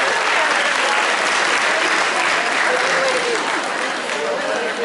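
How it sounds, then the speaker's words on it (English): Dense, steady applause from an audience at the Parade of Tables 2016 event, loud and continuous for the full stretch with a slight easing at the end. "So a big round of applause to all of our youth groups who are helping us out today."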